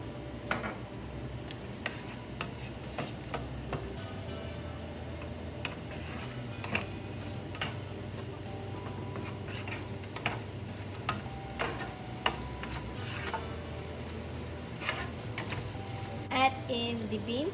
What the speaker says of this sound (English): I'm going to stir it and allow the fish cake to cook